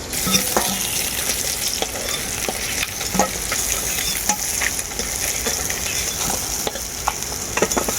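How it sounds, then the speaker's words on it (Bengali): Pieces of silver carp frying in hot oil in a pan, a loud continuous sizzle broken by scattered sharp crackles and pops, close up and with no talking. "বাকি মাছগুলো আমি একইভাবে ভেজে নেব"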